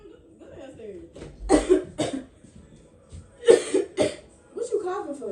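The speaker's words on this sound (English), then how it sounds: "What you coughing for?" A person coughs in a few short bursts, fairly close and moderately loud, separated by quiet pauses and brief vocal sounds.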